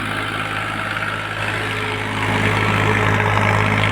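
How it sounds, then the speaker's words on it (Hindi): An old Ford 3600 tractor idles with a steady, heavy diesel rumble up close, swelling slightly louder toward the end, with no talking. "आवाज़ सुनेगा आप एक बार।"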